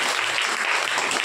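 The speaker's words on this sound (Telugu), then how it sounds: "చప్పట్లు కొట్టండి." Audience applause at a Saturday prayer meeting led by a pastor fills the moment, a steady, dense wash of many hands clapping at once, loud and continuous with no pauses and no talking over it.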